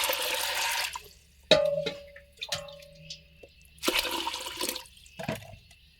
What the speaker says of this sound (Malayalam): കുറച്ച് വെള്ളം കൂടെ ഒഴിക്കാം.